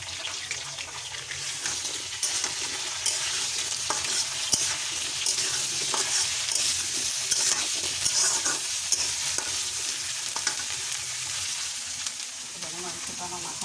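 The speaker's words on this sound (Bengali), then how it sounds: "এখানে আমি আলু পটলগুলি লবণ হলুদ দিয়ে ভেজে দেব" Potatoes and pointed gourd frying in a pan with salt and turmeric, a steady close sizzle with bright crackling and occasional stirring scrapes throughout, no talking.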